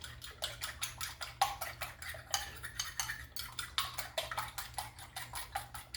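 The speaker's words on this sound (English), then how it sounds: "Just use the fork and whisk this together" A fork whisks an egg mixture seasoned with black pepper in a bowl, a rapid steady run of light metallic clicks and scrapes, close and alone.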